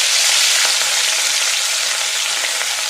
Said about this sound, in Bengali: আমি 2 পিস করে মাছ ভাজা করবো বন্ধুরা